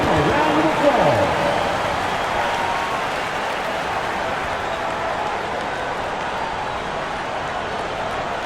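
Crowd applause in an NBA 2K27 basketball game between the Washington Wizards and Miami Heat, a sustained broad clapping roar from the arena crowd, loudest at the start then holding steady, with a voice over it early on.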